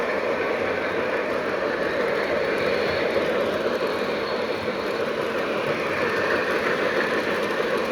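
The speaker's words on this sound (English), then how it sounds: "let me get the other engines running again, and I'll run some trains for you guys" Steady mechanical hum and whir of model train engines running continuously on a layout at an even, moderate level, with no talking.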